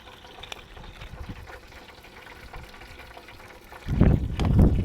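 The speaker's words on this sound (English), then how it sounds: "Now we're going to top it with some seltzer water." Seltzer water pours onto a mojito in a cup: a quiet, fizzy trickle grows into a louder, fuller gush of liquid near the end, heard close.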